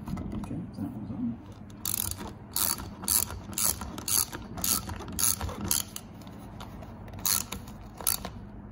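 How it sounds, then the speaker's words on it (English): Screws are driven back into a grille emblem on a 2011-2014 Ford Edge, cutting their own grooves: a close, steady ratcheting of a hand tool with regular sharp clicks, fairly quiet. "We'll just screw these back on."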